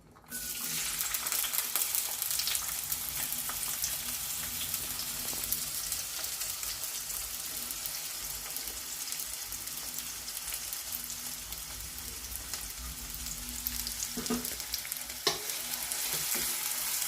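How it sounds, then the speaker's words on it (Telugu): Onion pieces frying in hot oil for a prawn and vegetable curry, a steady bright sizzle with occasional stirring clinks, continuous and close throughout with no talking. "ఆయిల్ హీట్ ఎక్కింది. ముందుగా ఈ ఉల్లిపాయ ముక్కలు వేసుకున్నాము."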